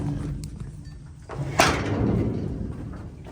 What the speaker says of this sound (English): If I open that door